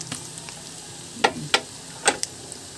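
Shrimp paste hitting a hot pan for binagoongan, a few short sizzling bursts over a quiet background hiss, with no voices present.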